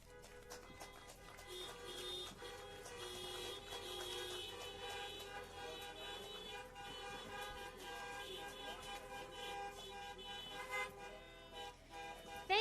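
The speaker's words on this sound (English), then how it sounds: "Let's hear some honks from all of you who have served in these operations" Many car horns honking together at a Veterans Day gathering, a sustained overlapping chorus of toots of different pitches, fairly faint and distant.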